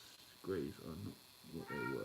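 A cat meows in drawn-out, wavering cries, several calls spaced across the moment, close by, with a person speaking briefly over them.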